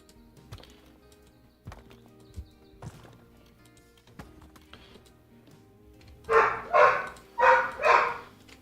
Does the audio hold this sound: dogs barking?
yes